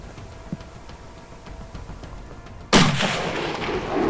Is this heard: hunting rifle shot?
yes